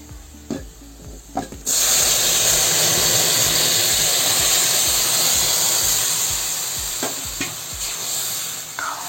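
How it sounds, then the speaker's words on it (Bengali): Moong dal poured into hot oil with fried garlic sets off a sudden loud, close hiss that holds steady and slowly eases, after a few soft knocks and clinks beforehand. "এখন আমি ডালটা ঢেলে দেবো"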